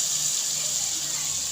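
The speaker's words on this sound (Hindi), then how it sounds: "अब 1 घूंट सिर्फ पानी का लगाएंगे" Water splashing into a pan of bhindi (okra) cooking on a stove, a steady continuous hiss of pouring or sizzling liquid, close and even throughout.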